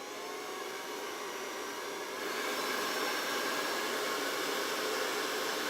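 Dryer blowing steadily to dry a surface at a Christmas tree farm, a loud continuous broadband rush that grows slightly stronger partway through and holds without a break.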